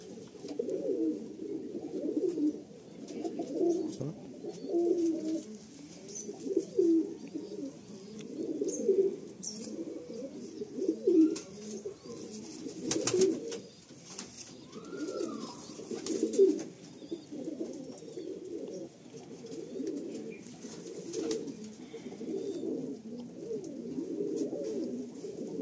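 A fancy bloodline pigeon coos steadily and close, rhythmic throaty rolls repeating over and over, with occasional light chirps and a brief wing flutter in the background.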